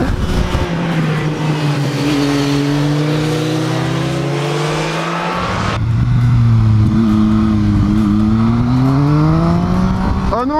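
A car is driven fast through a sequence of bends on a French road. The engine note rises and falls continuously as the driver lifts and gets back on the throttle, and someone talks over the engine noise.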